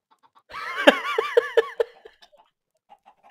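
A Minecraft chicken clucks in a quick burst of several squawky calls near a chicken farm, close and clear, then trailing into a few faint ticks.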